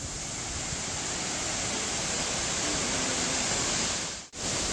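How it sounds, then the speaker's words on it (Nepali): Tindhare waterfall in Nepal pouring down, a constant dense hiss of falling water close to the microphone, with a brief dip near the end. "तिन धारे झरना"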